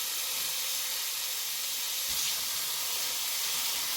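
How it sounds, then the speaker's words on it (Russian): Steady sizzling hiss of chopped onion frying in vegetable oil in a pan, even and continuous throughout. "Обжариваем до готовности лука."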